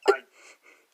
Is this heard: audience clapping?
no